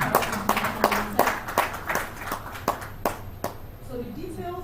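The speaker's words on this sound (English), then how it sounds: "A round of applause for Zenith Carex International." An audience at a chamber of commerce breakfast meeting gives a short round of applause: a burst of sparse, separate claps from a small group, close and fairly quiet, thinning out toward the end.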